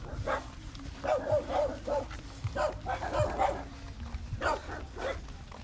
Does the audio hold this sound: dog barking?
yes